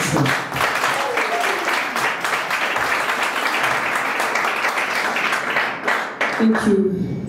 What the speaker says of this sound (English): And give a round of applause to her.